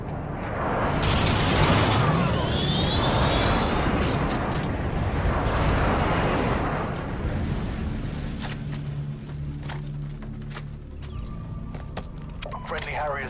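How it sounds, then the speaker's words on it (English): Friendly airstrike jets in Call of Duty Modern Warfare sweep overhead in a loud, rushing roar for several seconds, then the noise fades into quieter scattered game sounds. "Friendly airstrike inbound."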